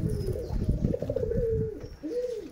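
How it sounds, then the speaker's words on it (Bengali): Domestic pigeons in a loft give repeated soft, low cooing calls, a few rolling coos close by with faint rustling between them and no talk. "সব দেশি কবুতর ডিম দিবে।"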